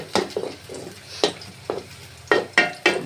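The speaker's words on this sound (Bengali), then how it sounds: "এখানে পেঁয়াজ নাড়তে হবে যাতে পুড়ে না যায়। এর মধ্যে দারচিনি, ছোটো এলাচ, তেজপাতা এগুলো দিলাম।" Onions frying with cinnamon, green cardamom and bay leaves, stirred in a pan: a low sizzle broken by several sharp scraping strokes of a spoon at irregular intervals, close and clear.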